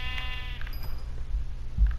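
Sheep bleating in the video game Minecraft, PlayStation 4 Edition, a few short wavering bleats over a steady low game background with no talk.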